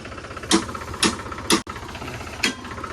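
A tractor engine idles with a low, steady chug on a muddy site where tractors get stuck, punctuated by several loud periodic bursts or revs spaced about half a second apart.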